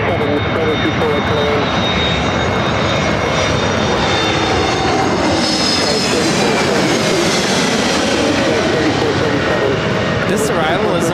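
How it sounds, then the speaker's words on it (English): An American Airlines A321neo arriving from Miami fills the air with a loud, continuous engine rush and a whining tone that rises and sweeps, while a voice talks over it. "This arrival is American Airlines Flight 537 coming in from Miami, Florida on the A321 NEO"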